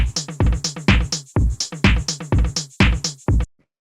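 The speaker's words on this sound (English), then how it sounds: "the next thing I will show you are the drums" Lo-fi house drum beat: punchy kick and snare hits with crisp hi-hats in a steady, loud, looping groove, ending abruptly after about three and a half seconds.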